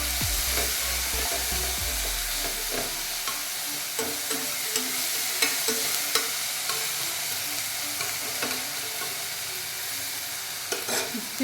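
Sautéed tomatoes being mashed and stirred in a hot pan on the stove, steady sizzling with scattered scraping and tapping of a spoon, no talk.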